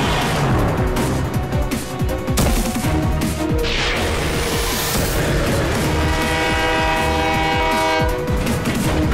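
Cartoon train rumbling along at speed, with a loud steady clatter, busy dense noise and a rising whistle-like sweep near the middle, continuous throughout.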